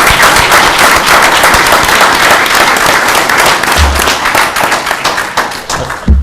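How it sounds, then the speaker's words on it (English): A room full of people at a town board meeting breaks into loud, sustained applause honoring fire and police responders, dense clapping continuing throughout and thinning slightly near the end. "So I would like to just applaud everybody."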